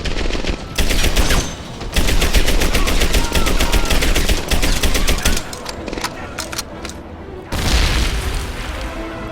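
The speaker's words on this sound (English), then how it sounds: "As you can see, MG42 means business." An MG42 machine gun in a Medal of Honor video game fires long, loud, rapid automatic bursts, broken by short pauses and punctuated by heavy booms.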